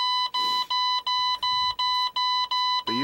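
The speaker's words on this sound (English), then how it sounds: "it'll beep at you crazy." Rapid electronic warning beeping at engine start-up repeats in a steady pulsing rhythm, about eight short tones in three seconds, loud and close.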